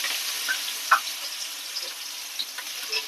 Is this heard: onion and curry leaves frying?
yes